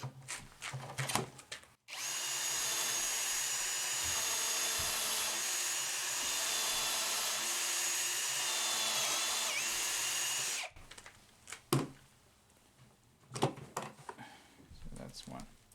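A power drill drives screws into a board for basement closet shelves, running in one long steady whine of about nine seconds between short bursts of handling clatter and talk.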